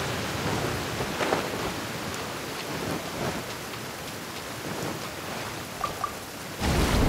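Steady rain pattering on surfaces in the video game Genshin Impact during a water boss fight, with occasional louder drips and a swell of heavier downpour near the end; no talking.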